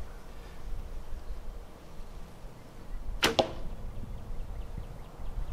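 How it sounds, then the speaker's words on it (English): Arrows loosed from a Hitman longbow outdoors: a single sharp, close snap and thud of the string release about midway through, otherwise only faint ambient hiss and no talking. "So let's get a couple shots here and I'll let you guys hear it and see it for yourself."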